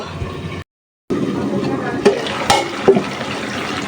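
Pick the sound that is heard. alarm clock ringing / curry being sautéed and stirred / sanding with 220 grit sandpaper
curry being sautéed and stirred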